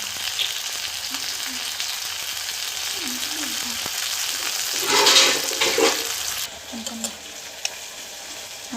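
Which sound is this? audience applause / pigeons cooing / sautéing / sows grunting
sautéing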